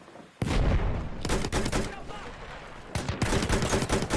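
Gunfire in a multiplayer shooter game, sharp shots and dense volleys ringing out close and loud, with a second burst of rapid fire near the end.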